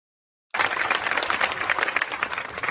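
Sudden burst of applause from a rally audience, dense and steady clapping that starts abruptly and holds loud to the end.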